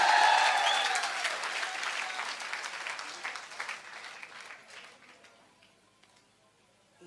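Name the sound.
audience applause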